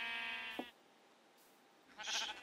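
Sheep in the video game Minecraft bleat twice: a clear, wavering game bleat at the start, then a second, brighter bleat near the end after a short quiet gap.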